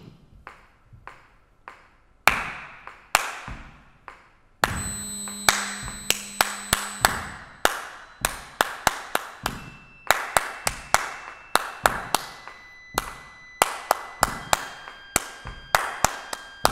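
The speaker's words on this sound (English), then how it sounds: "Yeah, so that's my clapping." Hand clapping in a live sine-wave performance, sharp claps coming in fast irregular clusters and then in a steadier rhythm, each clap ringing briefly over a faint electronic hum.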